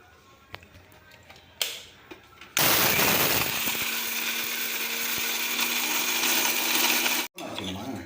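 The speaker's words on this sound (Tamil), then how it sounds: "மிக்சி ஜாரில் போட்டு" After a few light clicks, a mixer grinder roars to life with a steady loud whirring hum for several seconds, then cuts off abruptly.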